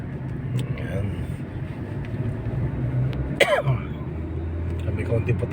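A single short cough or throat-clear bursts out midway over steady night traffic rumble and passing engine noise in Pasig City, Philippines; no words are spoken.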